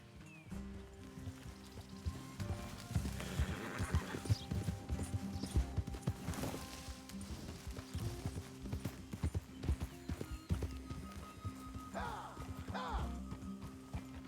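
Horses' hooves clip-clopping in Red Dead Redemption 2, a steady close run of hoof beats on the ground lasting throughout, with faint game background sound and no clear talk over it.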